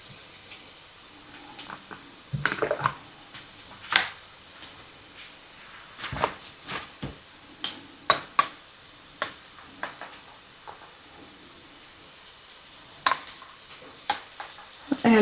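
Garlic is added to translucent onions frying in a skillet, and a soft, steady sizzle runs underneath sharp scraping and clinking taps from stirring against the pan at irregular intervals.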